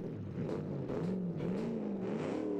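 A cheap supercar's engine runs in a car-building video game, giving a steady, low, droning note with a slightly wavering pitch that sounds rather like a tractor. It plays alone and close for the whole stretch.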